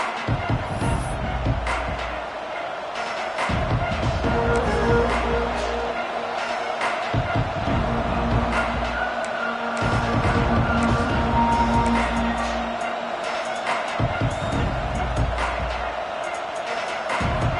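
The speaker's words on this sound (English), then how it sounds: "This crowd ready to make its presence known" Football stadium crowd noise at a Georgia game as play begins, a steady broad roar with swelling bursts and thumps, carrying loudly under continuous commentary.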